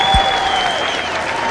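Audience applause at a Marine Corps recruit graduation ceremony at MCRD San Diego, a steady wash of clapping from a large crowd filling the moment while a faint tone lingers underneath.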